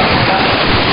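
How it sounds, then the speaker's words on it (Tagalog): Dense, roaring downpour with gusting typhoon wind from Typhoon Pablo in Cagayan de Oro, 2012, loud and close, a continuous wash of heavy rain with no pauses. "Lumakas ang ulan at humambalos ang hangin."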